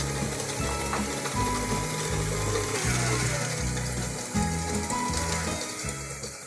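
An electric mixer beats eggs into pumpkin cupcake batter at medium-high speed, a steady whirring, gear-like drone with rhythmic rattling, close and continuous, with no talking.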